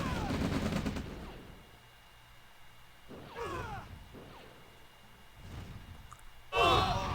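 Distant rocket launcher and gunfire bursts from V2 rocket launchers in a war strategy video game, faint crackling volleys with a few whooshing blasts rising at intervals, the last one loudest.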